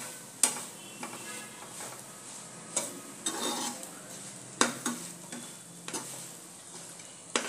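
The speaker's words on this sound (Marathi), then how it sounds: "आता कारलीमध्ये परतून घेऊया मसाले." Bitter gourd pieces being stir-fried with spices in a pan make a soft, steady sizzle, broken by several sharp scrapes and clinks of the spatula against the pan at irregular intervals, close by, with no talking.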